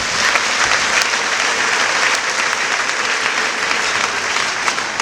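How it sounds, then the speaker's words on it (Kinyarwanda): A church congregation at an ADEPR service in Rwanda breaks into loud, dense applause, a continuous roar of many hands clapping close and even throughout. "Mureke dukomere Imana amashyi tubashimire."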